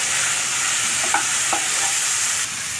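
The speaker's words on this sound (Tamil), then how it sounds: "மூணு நாட்டு தக்காளி இப்போ நாங்கள் வெட்டி வச்சதை ஆட் பண்ணுறோம்" Native tomatoes sautéing in a pan for egg masala give off a steady, close sizzling hiss, with a couple of soft utensil clinks as they are stirred. No one speaks.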